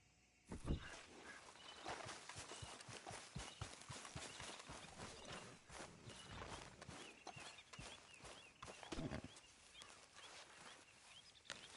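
Horse hooves clip-clop steadily in Red Dead Redemption 2, a continuous run of close, even hoofbeats over soft outdoor ambience, with a couple of louder thuds standing out.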